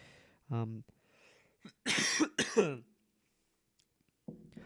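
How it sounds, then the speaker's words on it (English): A couple of close, harsh coughs with throat clearing, surrounded by brief murmured voice sounds and quiet pauses. "Sorry if I keep coughing."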